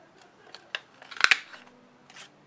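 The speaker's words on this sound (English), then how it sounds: "I'm just going to go ahead and move this down and punch out my shape here" A handheld paper punch pressing a shape out of cardstock, a few soft rustles and handling taps, then a sharp, close double snap of the punch cutting through, followed by faint paper shuffling.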